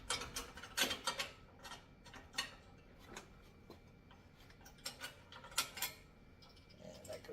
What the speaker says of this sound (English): tighten these down with like a wrench or a socket